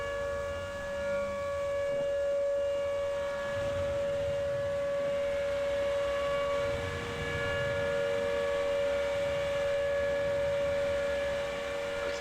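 A civil defense siren in the video game Tornado: Research and Rescue wails loudly and continuously, a constant tonal drone with harmonics layered over low rumbling background noise.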